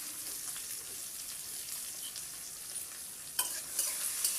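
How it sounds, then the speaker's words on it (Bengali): Onion frying in oil for paneer chilli, a steady dense sizzle with a few sharper spatters and stirring scrapes near the end, close and continuous with no talk. "পেঁয়াজটা ভালো করে ভেজে নেব।"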